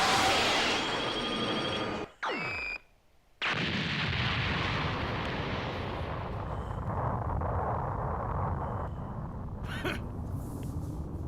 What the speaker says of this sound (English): Have a taste of Super Vegeta's Big Bang Attack!